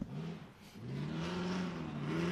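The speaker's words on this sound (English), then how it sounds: "you're going to hear that supercharged LS engine really sing on the second course here" A supercharged LS V8 in a Rock Bouncer race car revs loud and sustained, its pitch climbing and holding as it accelerates through a course, with no talk over it.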